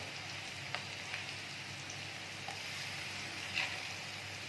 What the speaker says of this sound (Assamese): আদা নহৰু দি এইখিনি অলপমান ভাজি ল'ম